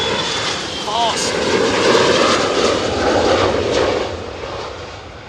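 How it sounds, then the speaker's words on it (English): An F-16 fighter jet on approach at RAF Lakenheath roars past as a loud, broad, steady rush that swells in the middle and eases off toward the end. "how fast the approach speed is for the F-16 compared certainly to the F-35"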